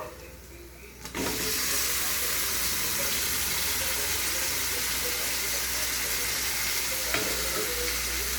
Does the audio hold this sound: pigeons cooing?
no